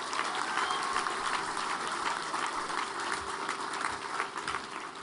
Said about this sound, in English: Give another round of applause.